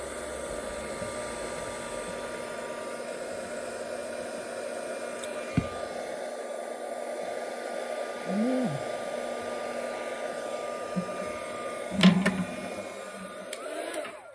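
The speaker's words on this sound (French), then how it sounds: "Je prends mon heat gun. Je vais pas le mettre fort" A heat gun blows with a constant whooshing hum at low power, with a few knocks and handling sounds in between, no voices.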